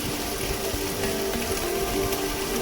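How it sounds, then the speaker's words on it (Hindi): Heavy rain driven by wind in the Uttarakhand hills, a steady dense hiss of water with no breaks, fairly loud and close throughout, no voices. "बहुत भयंकर बारिश आती है।"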